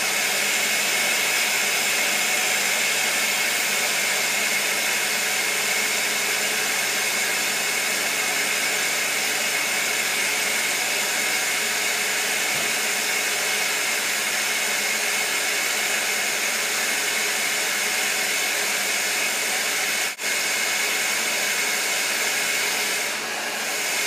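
A Ninja Kitchen System 1200 blender runs continuously, blending vanilla almond milk with a steady, loud high-pitched whirring drone that holds unchanged throughout.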